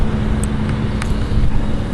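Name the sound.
1992 Buick Regal Custom 3.1 V6 engine starting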